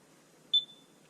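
A single short electronic beep from a blood and fluid warmer alarm, high-pitched and clear, sounding once in a quiet room and fading quickly.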